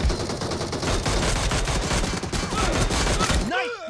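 Sustained automatic gunfire in the BGMI mobile shooter, a loud, rapid stream of close shots that cuts off near the end, followed briefly by a voice.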